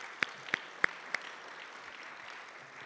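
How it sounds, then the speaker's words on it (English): A few claps ring out at an awards ceremony: four separate, evenly spaced claps, faint and close, then only quiet room tone. "Round of applause."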